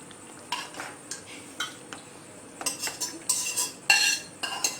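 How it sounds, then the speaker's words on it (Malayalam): A spoon scrapes and clinks against a metal pot while green peas curry is mixed, irregular knocks and clatters growing busier toward the end, close and fairly loud with no talk. "ഇനി ഒന്ന് മിക്സ് ചെയ്യാം നന്നായിട്ട്"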